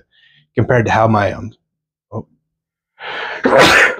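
A single sharp sneeze from a man at a strongman regional competition, bursting out loud and close after a few spoken words, followed by a short gasp-like intake.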